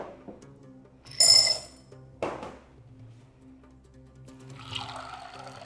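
Water poured over soaking chickpeas for Moroccan harira: a brief bright splashing gush, a second short splash, then a softer ongoing trickle, fairly quiet and close with no talking.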